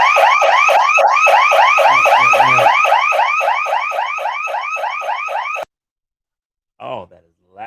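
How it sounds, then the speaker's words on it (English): A building alarm in the Little Dutch Inn, set off by someone in another part of the building, blares a loud, rapid, repeating electronic warble for several seconds, cuts out abruptly, then gives a couple of brief chirps. "Josh roaming around in the other part of the building there, set the alarm off"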